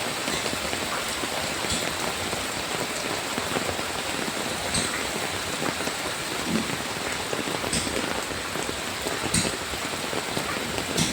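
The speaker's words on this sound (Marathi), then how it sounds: "जेवढ्या स्पीडनी पाऊस पडला तेवढ्या स्पीडने पाऊस पाणी धावतंय" Heavy monsoon rain pours down in Konkan during flooding, a dense, loud, continuous hiss of rain striking surfaces with rushing water mixed in, steady for the whole stretch and free of speech.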